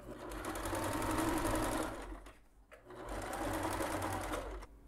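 A sewing machine stitching a towel with pompom trim runs in two steady whirring bursts separated by a brief pause, close and even, with no talking.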